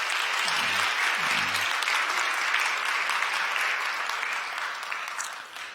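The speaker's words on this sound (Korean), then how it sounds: "여러분들 인사드릴 때 환영의 박수 부탁드립니다" A congregation at a Sunday church service claps in welcome for new members, a steady dense wash of applause that fades slightly toward the end, with a brief low voice murmuring near the start.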